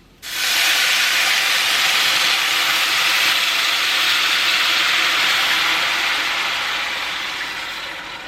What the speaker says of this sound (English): we will add 2 cups of broth or stock to the pot